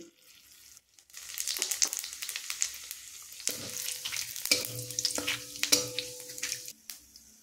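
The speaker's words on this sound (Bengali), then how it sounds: "এরপর এখানে দিয়ে দিচ্ছি একটা তেজপাতা আর দিয়ে দিচ্ছি হাফ চা চামচ গোটা জিরে।" Whole cumin seeds and a bay leaf sizzle and crackle in hot frying oil, a dense close hiss with scattered pops and light stirring scrapes, steady throughout with no talk.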